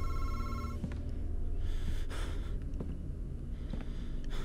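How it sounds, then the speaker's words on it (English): A telephone rings in the horror video game Madison, its bell tones repeating clearly at the start before fading under low, breathy ambient noise and scattered clicks. "Oh, there goes the phone again."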